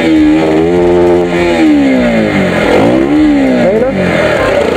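A motorcycle engine with a K&N air filter, heating and coolant problems, loud and close, rising and falling in repeated revs with a rough idle between them.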